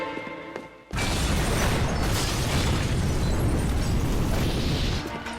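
A loud, rumbling explosion from The Legend of Korra animated series bursts in after a second of quieter sound, then a sustained roar of blast and debris carries on for several seconds.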